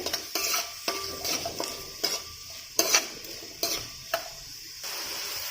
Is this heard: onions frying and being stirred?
yes